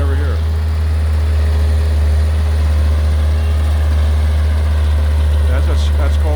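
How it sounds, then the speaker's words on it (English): A stump grinder runs close by while grinding away a tree stump, its engine holding a loud, steady low drone throughout with little variation, and voices come and go over it. "That's called a stump grinder. Grind away the stump"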